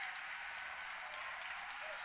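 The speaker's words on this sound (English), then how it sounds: "if you could hear me over the cheering" Broad wash of crowd cheering and applause from spectators at a Falcon Heavy side booster separation during the Arabsat 6A launch, steady and fairly faint, with a voice talking over it throughout.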